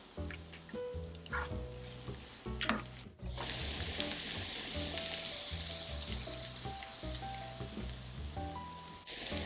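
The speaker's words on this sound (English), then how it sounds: "Every time you fry garlic and onion and turmeric and pepper, it smells like unbelievable, so amazing." Garlic, onion and turmeric fry in olive oil with a steady sizzle, louder and denser after an ingredient goes into the pan, with intermittent clinks and scraping of stirring and no speech.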